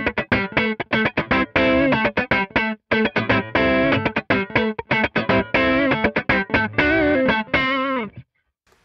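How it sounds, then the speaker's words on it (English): Electric guitar through a Big Rig overdrive pedal, a bitey, cranked-amp distorted tone with chorus-like shimmer, played as a loud run of choppy funk chords and stabs that rings out briefly at the end before silence. "Great overdrive, gives you that bite, sort of cranked amp sort of thing too."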